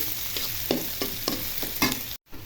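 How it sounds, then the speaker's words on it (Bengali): Green chilies stirred in a hot frying pan, a spatula scraping in several quick strokes over a sizzling bed of oil, close and fairly loud, ending with a brief cut. "কাঁচামরিচ দিয়ে দিব ভালো করে নেড়ে চেড়ে নিব"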